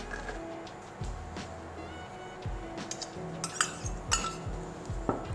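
Curry ingredients such as onions, garlic, green chilli, curry leaves, fenugreek and turmeric are tipped into a cooking pot, giving a few soft thumps and clinks of utensils against the pot, close by with no talk.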